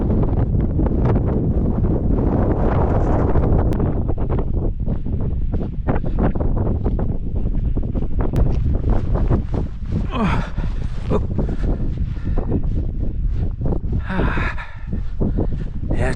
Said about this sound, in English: it's a bit blowy